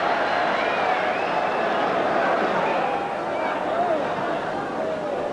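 Warm applause and cheering from a football crowd as a substitute comes on in a 1980-81 Tottenham Hotspur match, a steady murmuring roar with faint whistles under it.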